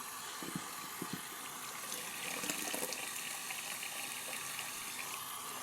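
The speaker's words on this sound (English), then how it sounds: "we're gonna wet the face" Tap water runs steadily from a faucet into a sink while a man wets his face before shaving three days' growth of stubble, a continuous moderate splash and gush with a brief surge partway through.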